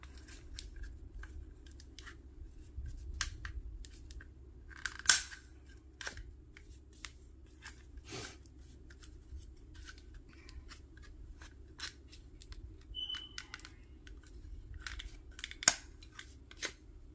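Scissors snip through paper strips in a quiet room, a series of sharp, close, irregular cuts scattered over a soft low background hum.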